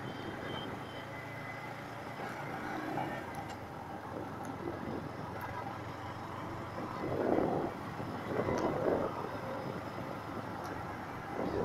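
A 2022 Yamaha MT-15 Version 2 motorcycle ridden with a pillion gives a continuous steady engine drone mixed with wind and road rumble, swelling slightly near the end.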